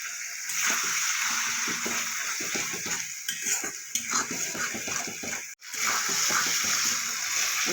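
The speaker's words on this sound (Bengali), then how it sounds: "আমি আরেকটু জল দিয়ে দিলাম" Water goes into sizzling masala for a Bengali egg curry, followed by stirring and pan scraping in a busy, close kitchen mix. A brief pause falls near the end before the bubbling and stirring continue.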